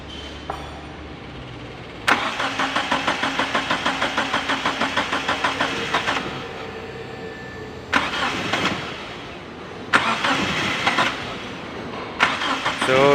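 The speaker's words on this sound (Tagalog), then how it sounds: "So dito guys, no, maririnig nyo na ayaw talaga tumuloy ng andar." A Mitsubishi 4G63 engine cranks repeatedly, the starter chugging in rapid rhythmic bursts that briefly catch and die without settling into an idle, with several separate cranking attempts, loud and close.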